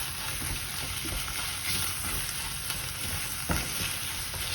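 Minced meat sauce for Greek spaghetti sizzles steadily in a pan while it is stirred, with a continuous frying hiss, soft scraping and one sharper clink near the end, and no talking.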